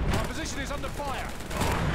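Gunfire in the video game War Mongrels, a loud, dense barrage of overlapping shots and impacts that runs without a break for about two seconds.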